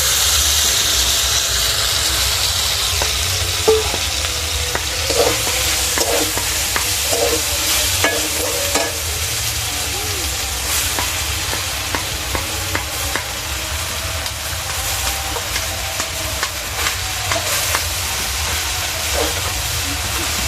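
Potatoes, eggplant and spinach frying in a spiced pan and being stirred, a steady close sizzle with scraping spatula strokes throughout, no voices.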